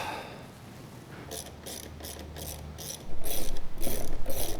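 Ratchet wrench turning out 6mm bolts on the top of a Jeep Rubicon fuse box: close, rapid rhythmic clicking in a steady series that grows louder partway through, with no talking.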